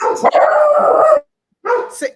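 Dogs bark loudly and close at other dogs passing by, with a dense burst of barking, a brief pause, then more barks and yips.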